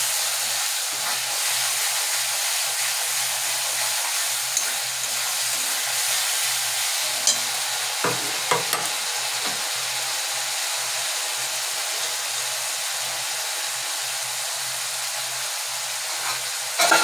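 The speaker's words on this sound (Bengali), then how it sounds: "মশলাটা ভালোভাবে আমরা কষাবো। মশলা কষানোটাই হচ্ছে আসল বন্ধুরা।" Masala spices sautéing and being stirred in a pan, heard as a continuous broad, hissing sizzle with a few scattered clicks and scrapes from the stirring, steady throughout and with no talk.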